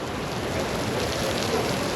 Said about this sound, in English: Oh, the rain is absolutely roasting.